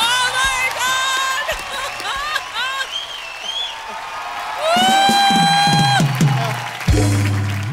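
A comedy show crowd bursts into loud applause and whooping cheers, swelling and rising over an announcer's amplified voice.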